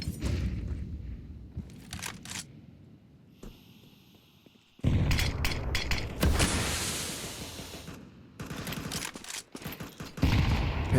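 Rapid bursts of automatic rifle fire spray in a Counter-Strike 2 esports match, loud clustered volleys with brief gaps and a quieter stretch midway, then heavy sustained shooting to the end.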